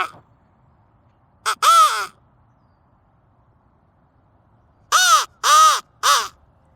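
A handheld crow call imitates crow caws: a short pair of loud, close caws, a pause, then a quick burst of three more, with silence between and no talking.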